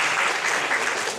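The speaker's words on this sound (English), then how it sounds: "Can we have a round of applause for everyone who helped put this event together?" Dense applause from a holiday party audience, a steady wash of many hands clapping at close range with no pauses and no voices.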